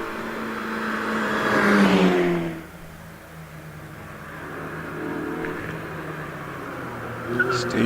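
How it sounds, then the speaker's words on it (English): A Mazda MX-5 race car drives up the Prescott hillclimb course, its engine rising to a loud rev, then easing off to a more distant hum as it carries on through the bends. A commentator talks over it. "Steve Perry coming through the S's in the Mazda MX-5"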